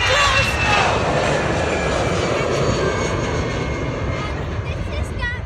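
At London Gatwick Airport a fixed-wing airliner roars loudly and steadily, a broad jet engine rumble filling the scene. Faint voices can be heard underneath.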